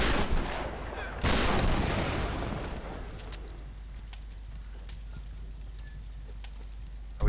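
Shotgun gunfire in the 2013 Tomb Raider video game, a burst of loud overlapping blasts near the start and a heavy volley after one second, decaying into a fainter rumble with scattered small cracks.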